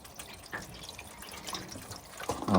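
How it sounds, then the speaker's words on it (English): Water poured over a trim piece at the back of a Camaro hood splashes and trickles in a soft, steady wash, growing louder and fuller in the final moments. "I'm gonna pour some water over that trim piece"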